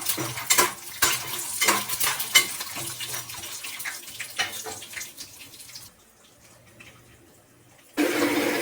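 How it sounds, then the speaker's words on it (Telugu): Garlic and peanuts fry in a pan over a medium flame for a peanut chutney, with busy clinks and scrapes of stirring over a low sizzle that drops away near the end before picking up again. "వెల్లుల్లిపాయ, వేరుశనగ ఇవన్నీ వేసేద్దాం. మీడియం ఫ్లేమ్లో పెట్టుకుని కాసేపు దాన్ని వేగనిద్దాం."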